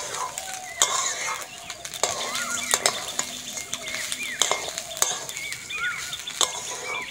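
Rice stirred and fried in a metal pan, with scattered utensil clinks and scraping over a soft sizzle, fairly faint and with no talking.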